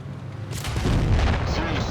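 A tank fires a high-explosive shell in the mobile game World of Tanks Blitz, one loud booming report that swells and rumbles for about a second amid game noise.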